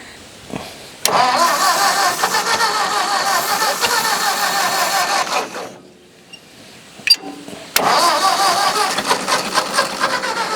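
A Ford 621 farm tractor engine cranks and fires up, running loud and steady for several seconds, cutting out briefly, then catching again with a sharp clink before running on.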